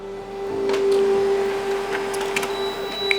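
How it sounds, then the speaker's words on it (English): A laser printer runs a white toner pass, giving a steady motor hum with a strong tonal whine and light mechanical clicks and rattles as the page feeds through, close and alone. "the print comes out of the printer"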